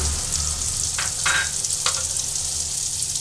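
Asafoetida and cumin seeds dropped into hot oil in a well in the middle of a pan of masala paneer, giving a loud, steady close sizzle with a few brief crackling bursts and no talking.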